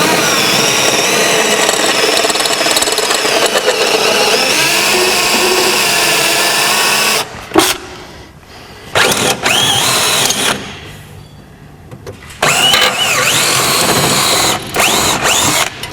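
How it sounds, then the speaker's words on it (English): A power drill bores out rivets on the front tunnel kick plate of a Polaris snowmobile, whining loud and continuous for several seconds, then cutting in and out in short bursts with pauses. "we're going to get a drill, and we're going to start to drill out 5 different rivets here to remove the kick plate"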